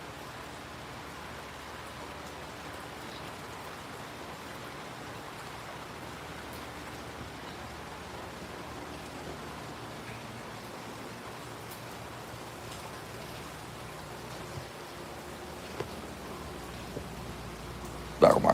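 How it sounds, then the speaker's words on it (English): Steady rain falling outside a home, a soft continuous hiss of drops that holds evenly for a long stretch, faint and unbroken, with a few small knocks near the end. "let some rain sounds happen"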